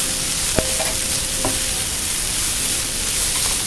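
Chicken pieces hitting hot oil and frying spices in a pan give a steady close sizzle, with a couple of brief stirring scrapes near the start and no voices.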